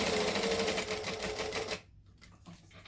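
A sewing machine stitches a wallet seam with a quick, steady whirring patter for almost two seconds, then stops. A few soft clicks and handling noises follow.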